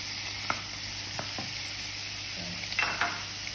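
Prawn fried rice with peppers and peas stir-fried in a pan, a steady close sizzle with a few light scrapes and clinks of a utensil mixing.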